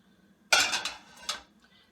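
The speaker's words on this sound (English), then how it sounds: "What I'm going to do is swirl the pan so that the oil nicely coats it evenly." A pan with about three tablespoons of vegetable oil is tilted and swirled on the stove, giving a sharp metallic clank followed by a brief scrape and a second lighter clink, close and fairly loud.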